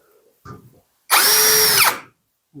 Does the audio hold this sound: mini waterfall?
no